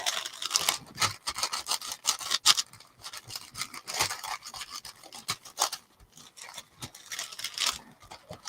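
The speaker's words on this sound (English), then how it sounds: "I can kind of rub some of that glue around." Fingers rub glue around on the fabric of a reusable shopping bag, a close, fast and uneven scratchy rasping with short bursts and brief pauses, and no talking.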